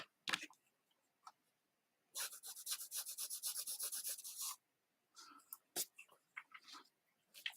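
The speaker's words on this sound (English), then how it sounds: "So I'm just going to rub out some of this as well" A pencil drawing of a monochrome landscape, with an eraser rubbing out pencil marks on paper: a close, quiet, rapid back-and-forth scrubbing lasting about two seconds, framed by a few faint scattered ticks and scrapes.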